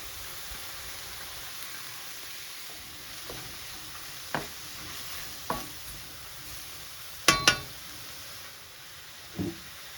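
Onion and dry white wine sizzle steadily in a hot wok, a constant frying hiss broken by occasional scrapes and clinks of stirring.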